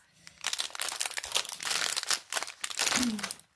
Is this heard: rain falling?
no